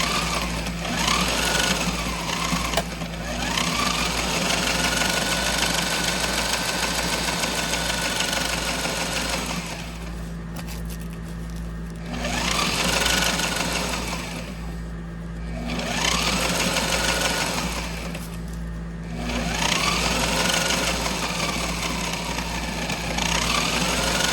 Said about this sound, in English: Then I'm just going to zigzag down the middle of this to attach the Velcro in the middle